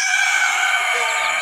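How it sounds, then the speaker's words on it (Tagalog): A rooster crows loudly and close, a drawn-out strained call filling the moment. "sumasabat pa yung ating rooster"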